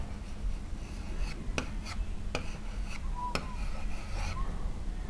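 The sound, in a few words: writing a word by hand on paper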